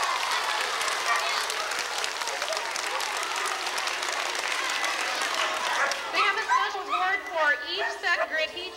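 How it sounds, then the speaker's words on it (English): An elementary school crowd applauds second graders for tripling their reading goal, with loud sustained clapping that gives way to children's chatter and voices near the end. "Let's give them a big round of applause."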